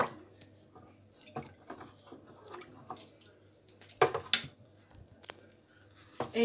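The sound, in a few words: stirring fabric softener mixture in water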